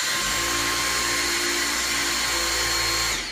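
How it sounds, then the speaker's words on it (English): Dyson V6 Absolute cordless vacuum cleaner with its motorized head, running on the normal setting: a steady, loud whirring whine held continuously, close by, with no talk. "Just to give you an idea of the noise, this is the motorized head and the V6 on normal setting."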